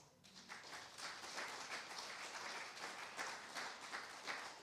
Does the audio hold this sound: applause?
yes